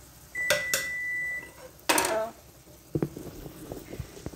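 A spoon stirs broccoli and noodles in a metal cooking pot for tuna casserole, giving a few sharp clanks and scrapes with a brief hum between them, then softer knocking.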